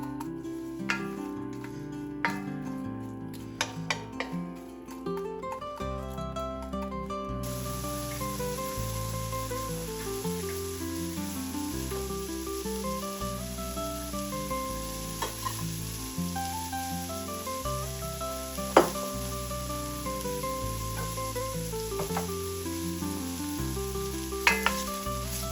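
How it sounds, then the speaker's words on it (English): Onions and peppers sauté in a pot with a soft, continuous sizzle sitting under louder background music throughout. "And while those are sauteing"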